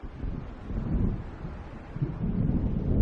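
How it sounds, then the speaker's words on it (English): Low thunder rumbles from an approaching storm in the Alan Wake game, a rolling, swelling roar mixed with wind and faint rain, with no talk. "It seems there's a storm coming."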